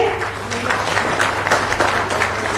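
Audience applause at a government ceremony where a chief minister hands cheques to athletes, a dense, continuous clapping crowd over a low hum in a large hall.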